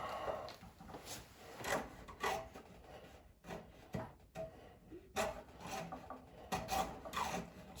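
A PVC pipe being cut with a dedicated PVC handsaw, giving close, rhythmic rasping strokes that pause briefly partway through, with no talking.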